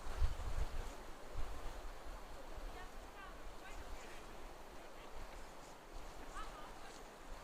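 Very strong wind blowing across open water during a fishing outing, a steady broad rush buffeting the microphone with a slightly heavier gust at the start, no clear voices.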